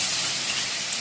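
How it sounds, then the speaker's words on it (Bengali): Water poured into hot fried spice paste in a pan, giving a loud, steady hiss of steam that lasts about a second. "মশলাটা ভাজা ভাজা হয়ে গেছে। এবার জল দিয়ে দিচ্ছি এর মধ্যে"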